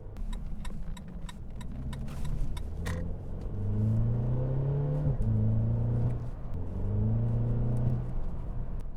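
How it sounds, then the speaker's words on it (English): Mercedes C300 W205 exhaust fitted with a high-flow cat downpipe, a steady low rumble that swells twice as the engine revs, with faint ticking early on and no talk. "I do hear a little difference in the sound of the exhaust"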